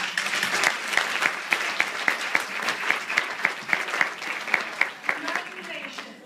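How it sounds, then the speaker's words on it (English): An audience of women applauds at a financial empowerment seminar, a steady patter of many hands with sharper individual claps standing out, fairly close and continuous for several seconds. "let's give ourselves a big round of applause"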